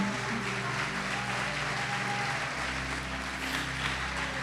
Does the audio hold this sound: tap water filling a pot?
no